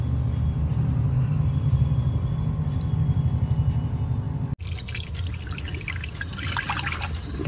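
Water is poured out of a small container for aquarium fish, first as a low splashing rumble, then after an abrupt cut a brighter trickling and dripping, close by with no talk.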